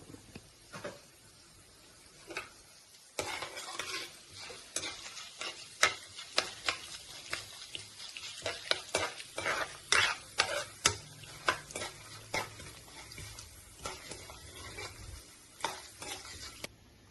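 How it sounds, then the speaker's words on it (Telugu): Urad dal and chana dal frying in a pan, a soft continuous sizzle with repeated sharp scraping and clinking of a spoon stirring throughout, close and fairly quiet with no talk. "కొంచెం మినపగుళ్ళు పచ్చిపప్పు ఒక స్పూన్ రెండు స్పూన్లు చిన్న స్పూన్ ఇది ఇప్పుడు అవి ఫ్రై చేసుకున్నాము"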